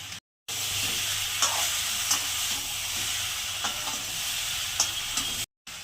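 Shukto simmering in a pan after Amul milk and fried vegetables are added: a steady, soft bubbling and sizzling hiss with occasional light pops and scrapes, low and continuous, no voices.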